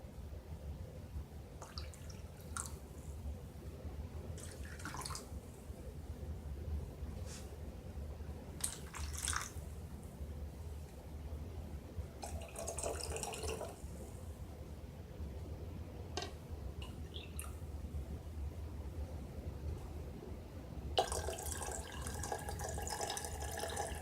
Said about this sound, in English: looks like we have about 10 ounces of water left. So we could put 2 more ounces in each one of the containers